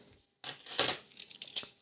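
A 2 euro coin struck at the Stuttgart mint set down on a hard surface, giving a few short metallic clinks and taps close by after a brief pause.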